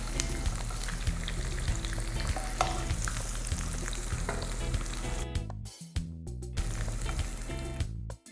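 Browned beef pieces sizzle and crackle continuously in hot cooking oil in a pan, a loud steady frying hiss with occasional stirring scrapes and brief dips where the food is moved.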